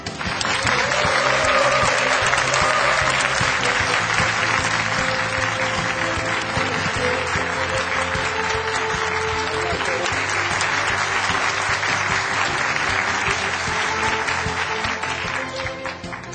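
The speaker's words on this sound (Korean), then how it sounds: "여러분, 김종훈 회장님을 뜨거운 박수로 맞이해 주십시오." Sustained, loud audience applause fills a lecture hall as a company chairman is welcomed on stage for a corporate culture talk, steady dense clapping throughout with faint crowd murmur.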